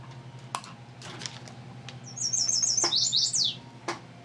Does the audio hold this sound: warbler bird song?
yes